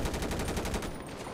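Rapid automatic gunfire rings out in a GTA 5 roleplay shootout, a loud close burst of quick repeated shots lasting about a second before dropping away.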